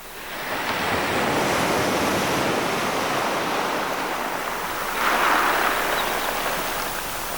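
Sea waves breaking at a beach as a steady, close, broadband wash of surf, swelling slightly near the end, with no talking heard.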